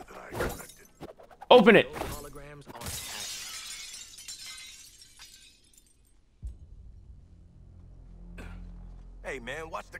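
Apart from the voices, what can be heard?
glass shattering in the video game Suicide Squad: Kill the Justice League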